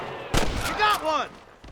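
Gunfire in Red Dead Redemption on PS5: a few sharp, loud shots cracking out in quick succession, mixed with a strained voice during a frontier shootout.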